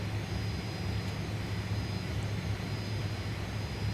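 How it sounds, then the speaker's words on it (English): Constant loud jet engine roar inside a Fokker 28 regional jet in a flight simulator game, a steady, unbroken drone with a low hum and broadband hiss, no talking. "This airplane is so loud."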